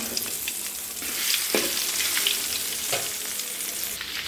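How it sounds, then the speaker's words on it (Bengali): Pieces of marinated fish frying crisply in hot oil give a close, steady sizzle with soft crackles and an occasional stir, with no voices. "এই যে মাছগুলো ভাজা হচ্ছে"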